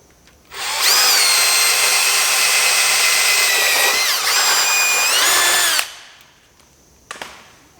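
A power drill bores into a chunk of wood, whining loudly and steadily for about five seconds with a slight pitch dip midway, then spins down, followed by a brief knock.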